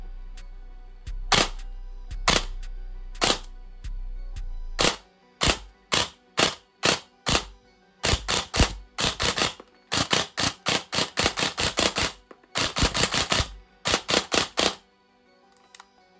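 An airsoft gun fires shots through a chronograph after a battery swap: a rapid, sharp string of loud clicking cracks in several bursts, each burst a fast, even rattle of closely spaced shots, alone without talk.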